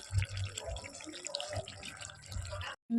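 Hot water poured into a pot of mutton curry during cooking, a steady liquid pouring and splashing sound heard close by that stops abruptly near the end.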